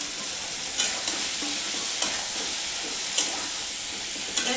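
Pointed gourds (potol) frying in hot oil for a vegetarian dorma, giving a steady bright sizzle with a few soft spoon or pan knocks spaced about a second apart.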